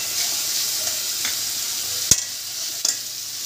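Onions frying in a pan with ginger-garlic paste, cumin and coriander being stirred in: a steady close sizzle with a sharp spatula clack and a second softer knock, no talking.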